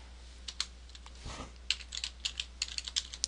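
Password being typed on a computer keyboard: a quick run of light, close key clicks in an uneven rhythm, with a brief soft rustle partway through and a faint steady hum underneath.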